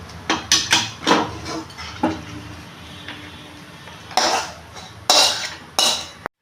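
Chilli paneer is tipped from a pan into another pot, bringing a run of metallic clanks and scrapes of a spoon against cookware in uneven bursts, with a few louder knocks toward the end and quiet pauses between.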